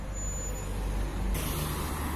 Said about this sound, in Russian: Вот и мой автобус сейчас.